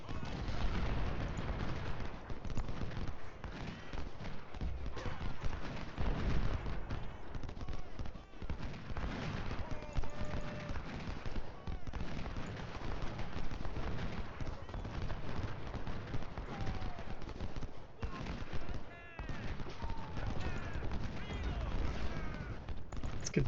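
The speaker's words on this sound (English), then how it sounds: "Let's have our cavalry come up here and just kind of take some shots" Cavalry firing shots in the Ultimate General: Civil War video game, with scattered musket fire, rolling volleys and hoofbeats all blended into a constant, dense battlefield din.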